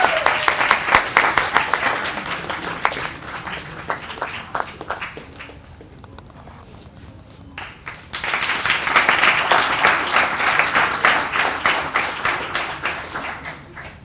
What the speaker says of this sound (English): Audience, please give him a huge round of applause.